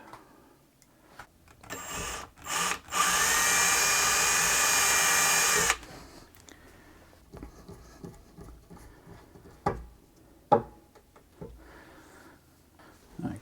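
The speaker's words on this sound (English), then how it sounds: "I'll grab my drill because there's quite a bit of glue down on this one here." A power drill whirs loudly for a few seconds in one steady burst, re-drilling glue out of a hole while restoring a Singer 328P sewing machine, preceded by short starts and followed by scattered clicks and knocks.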